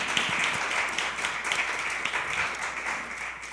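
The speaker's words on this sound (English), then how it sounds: "I think our panelists deserve a round of applause for being up here and sharing some" Steady applause from an audience for panelists at a conservation award panel discussion, a dense continuous wash of many hands clapping, moderately loud throughout.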